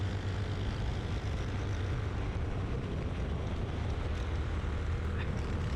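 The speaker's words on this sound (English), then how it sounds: "'93 has been having some engine trouble, and I think I can hear it." Go-kart engine with engine trouble during a road course race, a steady droning buzz that holds throughout without clear pauses.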